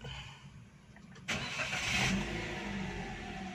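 A 2018 Daihatsu Ayla 1.2 R manual facelift with its transmission in neutral cranks and fires up, a sudden burst at about a second in settling into a steady close idle that carries on alone.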